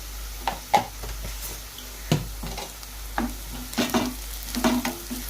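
Onions for chicken curry fry in a pan until browning, giving a steady close sizzle and repeated scraping, tapping strokes of a spoon stirring against the pan.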